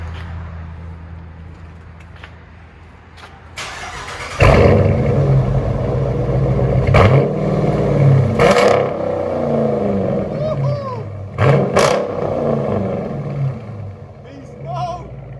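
A Dodge Challenger engine rumbles at idle, then roars louder with repeated revs heard from inside the car, with people talking over it.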